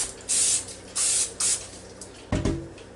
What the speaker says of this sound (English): take my handy dandy cooking spray here